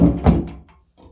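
A drawer in a rebuilt vintage dresser is handled close up. It gives a wooden thunk and a short sliding rumble, then a quiet pause and a faint final knock.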